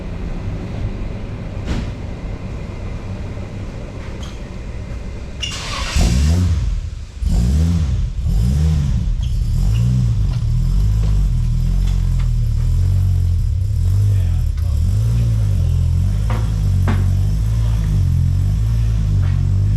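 A car engine starts with a burst and then rumbles loud and steady on a dyno, its low drone filling the rest of the run.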